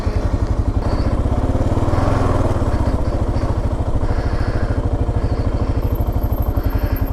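A Kawasaki KLR motorcycle rides through sand, its single engine chugging in a steady rapid pulse that rises slightly in effort, loud and close throughout with no talk.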